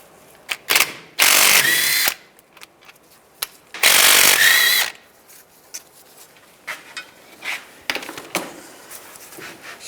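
A power ratchet spins out the 13mm brake caliper bolts on a Nissan Xterra during a lower ball joint replacement, two loud sustained whirring bursts followed by shorter clicks and clanks of the socket and tools, with no speech.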